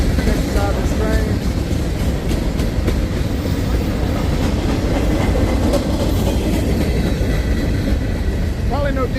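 A CSX freight train rolls past at night in downtown Opelika, Alabama, giving a steady, loud rumble of wagons and wheels throughout, with faint clicking of rail joints and no clear talk.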